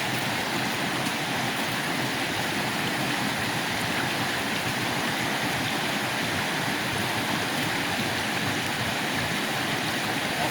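Clear river water flowing steadily over rocks near a mountain source, a constant close rushing and babbling with no voices.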